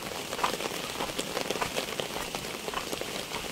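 Heavy rain pours down on a village in the Maharashtra countryside, a dense, even hiss of drops striking surfaces with scattered nearer splats, steady and moderately loud throughout with no voices.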